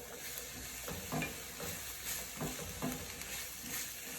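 Seasoned onions and ground hamburger meat sizzling in a pan as they cook down, a steady soft frying hiss with faint stirring scrapes at intervals, fairly quiet and close with no talking.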